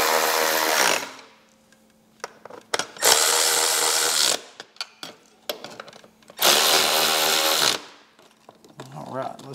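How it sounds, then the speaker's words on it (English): Speaker screws being run into a Harley-Davidson speaker pod by a power tool, three loud whirring bursts separated by quieter clicks and handling noises. "Now that they're started, I'm gonna zap them in with a ratchet."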